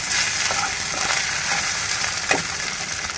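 Ginger garlic paste frying in a pan with green chillies and curry leaves, a steady close sizzle with a few brief stirring clicks and no talk.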